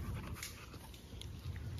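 A five-month-old dog pants steadily and close by in rapid, breathy bursts across the whole stretch, with no one talking.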